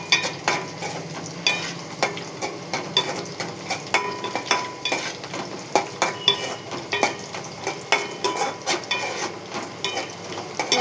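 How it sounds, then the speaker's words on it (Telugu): Curry leaves fry in a hot pan with a steady sizzle, while a utensil scrapes and stirs in a regular, repeating rhythm, close and fairly loud, with no talking. "కరివేపాకు వేయించి వేగిపోతుంది."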